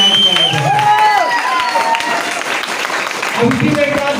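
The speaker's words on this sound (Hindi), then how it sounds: "उसके लिए आप अपने लिए एक बार जोरदार तालियां बजाएं।" Audience applause breaks out at a training session, a broad wash of clapping and crowd noise, with a voice speaking and sliding musical tones over the top.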